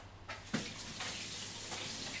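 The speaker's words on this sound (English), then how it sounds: "fill up a pan of water" Water runs from a kitchen tap into a pan, a soft continuous splashing stream with a few louder splashes, fairly quiet and close, with a faint low hum beneath and no talking.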